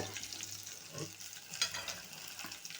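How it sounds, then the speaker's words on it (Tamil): Curry leaves and spices spluttering in hot oil for pepper chicken, stirred now and then, giving a soft steady crackle with a few sharper pops and scrapes, close but fairly quiet. "கொஞ்சமாக கருவேப்பிலை நல்லா பொரிய விட்டுக்கணும்"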